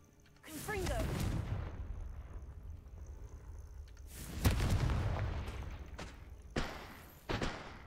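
A Confringo blasting spell fires in Hogwarts Legacy, a whooshing burst that swells into a heavy boom, followed by a second louder blast a few seconds later and a couple of sharp impacts near the end.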